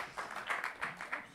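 Small meeting audience giving brief, light applause, a few soft clusters of claps at moderate distance.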